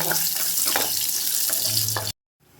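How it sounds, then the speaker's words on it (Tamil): Oil sizzles steadily as garlic fries in a pan, with occasional stirring scrapes, loud and close, then cuts off abruptly near the end. "பூண்டை மட்டும் கொஞ்சம் எண்ணெய் ஊற்றி அதை கொஞ்சம் வறுத்துக்கிடணும்"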